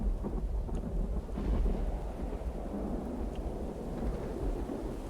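Big rolling thunder booms low and heavy over steady rain in the Songs of Syx video game, rumbling continuously for several seconds with no voices.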